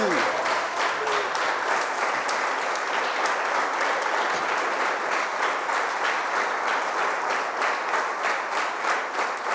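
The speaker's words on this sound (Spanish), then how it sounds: "Ese aplauso es para él." Sustained applause from a large crowd, dense and steady clapping throughout with a faint voice or two underneath.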